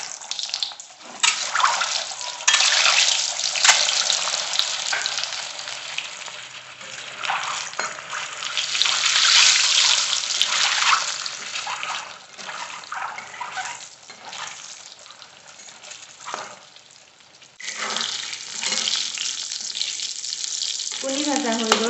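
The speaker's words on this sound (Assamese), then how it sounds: "এতিয়া কণীকেইটা ভাজি লওঁ" Eggs fry in hot oil in a pan with a loud, crackling sizzle that swells and eases over about twenty seconds, broken by a short lull before it resumes.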